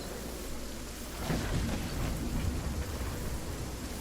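A thunderstorm in Fortnite: steady rainfall hisses continuously while a low rumble of thunder rolls in and swells midway, then lingers under the rain. There are no voices.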